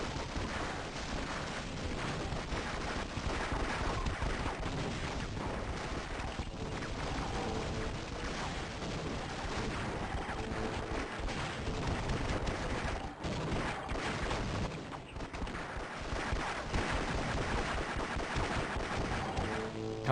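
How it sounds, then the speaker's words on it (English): Pistol gunshots in a Half-Life 1 deathmatch game crackle nonstop amid a dense, steady wash of overlapping gunfire and explosions, loud and unbroken throughout. "I'm gonna hear this pistol sound in my sleep."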